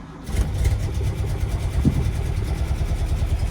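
A Lancia Zagato sports car engine catches and settles into a lumpy, loud idle that stays close by and holds steady, with no one talking.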